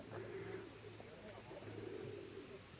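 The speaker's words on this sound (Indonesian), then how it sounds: "Ada rumah burung dara tuh." Pigeons at a pigeon house coo in soft, repeated low calls, faint and somewhat distant, with a few overlapping coos across the stretch.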